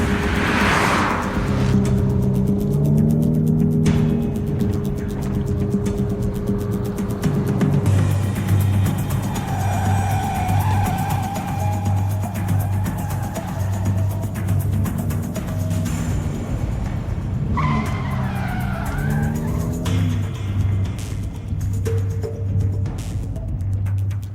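A car speeds off with engine revving and tires skidding, loud and continuous throughout, with shifting engine tones and no speech.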